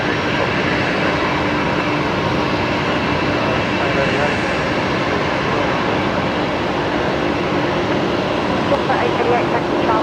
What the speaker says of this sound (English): There is the Qantas service to Manila tonight.